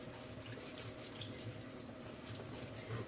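Tap water runs continuously in a kitchen sink while potatoes are washed under it, a steady close hiss and splash with faint shifting of the potatoes and no speech.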